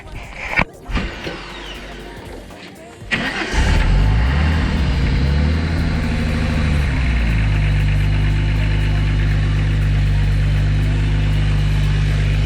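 A 700 hp car, its engine starting after a few clicks and clunks, then settling into a loud, steady idle with a deep low rumble that holds close and unbroken to the end.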